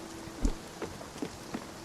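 Rain falling in the farming video game Life is Terrible, a steady patter with a few louder droplet hits spaced across it, alone with no talk.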